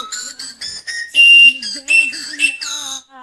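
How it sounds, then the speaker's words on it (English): A whistle pop candy whistle is blown in a series of short, bright toots of varying pitch and length, loud and close, with brief pauses between blasts and no talking. "It's a whistle pop."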